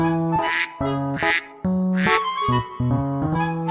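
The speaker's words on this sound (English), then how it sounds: "duck" A duck quacks loudly and close by in a farm setting, giving about five harsh, nasal calls in quick, uneven succession with no other sounds.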